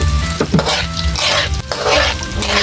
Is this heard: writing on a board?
no